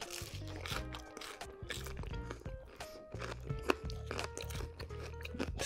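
Close, crisp crunching as homemade pepperoni pizza with green ranch sauce is bitten and chewed, the crust crackling in repeated irregular bites with no talking.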